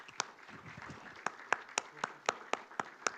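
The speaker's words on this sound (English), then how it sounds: "a round of applause for all of them" Sparse clapping from a small audience after a conference panel session; a few isolated, uneven claps spaced out over a quiet room, faint and brief, with a murmur of low voices underneath.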